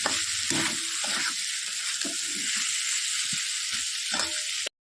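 Soaked soybeans with potatoes and spices are stir-fried in a pan: a constant sizzle runs under repeated scraping strokes of a spatula, close and fairly loud, with no talking.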